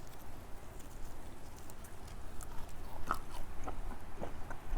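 Biting and chewing through the crispy skin of a smoked chicken from an offset smoker, a few faint crunches over low background noise, close to the microphone.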